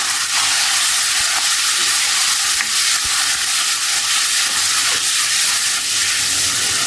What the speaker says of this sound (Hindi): इसके छोटे छोटे क्यूब्स की शेप में काट लिया है, ये डाल देंगे। कलर चेंज होने तक इसे पकाएंगे।